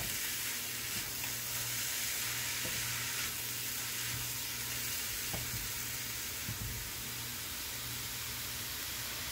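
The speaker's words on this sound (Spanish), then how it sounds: "Lo revolvemos todo muy bien." Cauliflower rice being stirred in a hot pan, a steady close sizzle of frying with occasional light scraping knocks of the spoon, continuous and even throughout, no talking.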